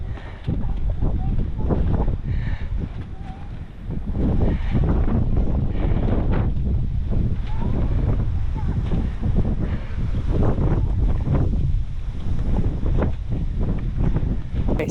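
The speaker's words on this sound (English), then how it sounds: "sorry for the wind, guys. It's a little windy here." Gusty wind on a hiking trail in South Dakota buffets the microphone with heavy low rumbling, easing briefly before surging back and roaring on continuously.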